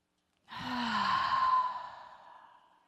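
A group takes a deep breath during a guided breathing exercise, a single loud, airy exhale or sigh that swells quickly and then slowly fades out, heard close.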